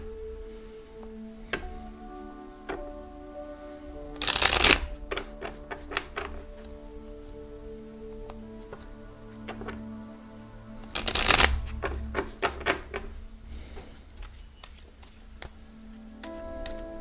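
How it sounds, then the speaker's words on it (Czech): Tarot cards being shuffled by hand at close range, two loud riffling bursts with scattered soft taps and card flicks between them, over a quiet background hum. "Já si tady domíchám karty a pustíme se do vaší věždby."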